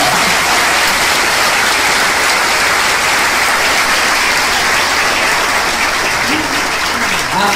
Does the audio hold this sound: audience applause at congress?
yes